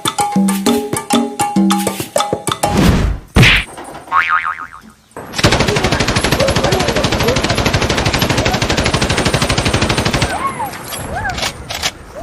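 Gunfire effects ring out during a street monkey show: a boing and a few loud bangs, then a long rapid machine-gun burst, close and loud.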